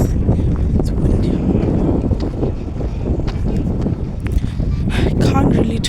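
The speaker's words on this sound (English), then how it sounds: "it's windy." Strong outdoor wind buffets the microphone in a loud, continuous rumble with gusty surges and rustling, covering the whole stretch.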